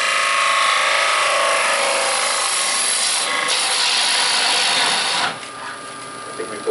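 Lathe gouge cutting the sidewall of a wooden bowl on a lathe, a steady loud scraping hiss running almost continuously, briefly changing tone partway through before easing off near the end.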